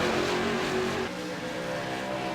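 Late model race cars roar past at Five Flags Speedway, a loud continuous engine drone with a pack of cars passing, no voices.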